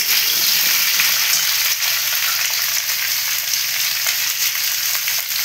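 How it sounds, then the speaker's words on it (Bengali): Sweet potato and beans frying in a pan, a loud, dense, steady sizzle with scraping stirring strokes throughout, close up and without voices. "আস্তে আস্তে করে সব আনাজগুলোকে একসঙ্গে দিয়ে দেবো।"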